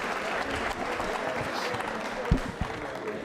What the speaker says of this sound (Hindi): तालियां जोरों से बजाइए इन सब के लिए